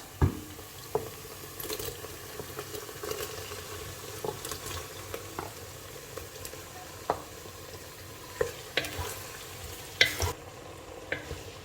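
Tomato and onion fry in a pan for a Cameroonian huckleberry (njama njama) dish, a steady low sizzle broken by scattered clinks and scrapes of stirring over nearly twelve seconds, with no talking.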